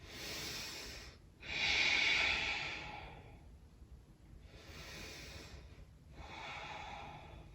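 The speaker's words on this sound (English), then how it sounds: "Breathing in and out through the nose." Slow breaths drawn in and pushed out through the nose during a vinyasa yoga practice, soft and close, with about three airy inhale-exhale cycles and no talking.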